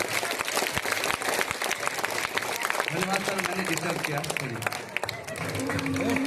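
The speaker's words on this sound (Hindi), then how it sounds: "तो इससे पहले जोरदार ताली के स्वागत आलोक सर के लिए।" An audience gives applause welcoming a guest speaker at a student gathering, with dense clapping continuing throughout while someone speaks briefly over it near the middle.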